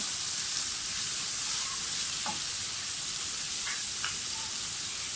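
Garlic ginger paste frying in a pan for a spaghetti and macaroni dish, a steady bright sizzle with a few faint clinks of a utensil against the pan.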